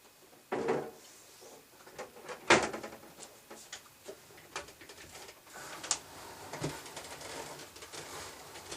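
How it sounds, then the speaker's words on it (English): An AccuQuilt Studio die cutter feeding fabric through, heard as a few sharp clunks and clicks followed by irregular mechanical rattles and taps, close by with no talk. "I'm just going to run this through the cutter"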